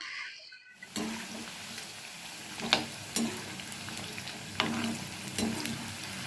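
Sliced bitter gourd frying in hot oil for a pickle, stirred steadily with a spatula until browned; a soft continuous sizzle is punctuated by a few sharper scrapes and clinks against the pan.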